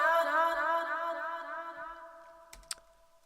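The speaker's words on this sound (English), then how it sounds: "I added a lot of delay and reverb, and then it sounded like this." A sung vocal word drenched in heavy delay and reverb, a sustained wavering tone that smears and slowly decays, with faint clicks and a small tap near the end.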